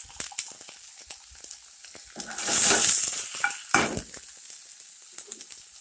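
Broccoli and roasted garlic sautéing in olive oil with salt and pepper: soft sizzling with scattered utensil taps and scrapes, swelling into a loud hissing burst midway before settling back to light crackle and clicks.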